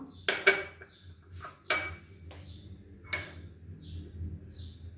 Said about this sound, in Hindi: दूध हमारा बॉयल हो चुका है। अब इसके अंदर मेवे डाल देंगे। काजू जाएगा, बादाम,